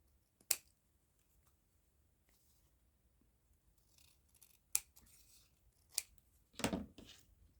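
Scissors trim glued plastic grocery-bag handles in a handful of separate sharp close snips spread out over several seconds, the last cut a little longer and crunchier, with quiet rustling of the bag between cuts.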